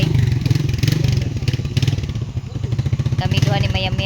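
A motorcycle engine runs close by with a steady, throbbing mid-range rumble throughout, while people talk over it.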